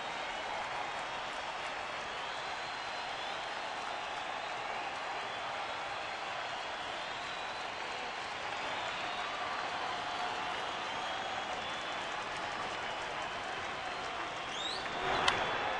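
Baseball crowd on its feet applauding at a Dodgers home game, a sustained distant wash of clapping and crowd noise holding steady throughout, swelling slightly near the end.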